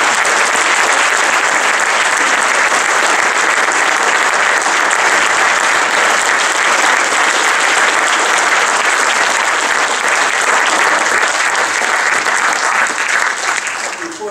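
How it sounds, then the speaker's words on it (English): Sustained loud applause from an audience at a union meeting, steady and dense for the full stretch, fading only slightly at the very end. "I think a little applause would be good."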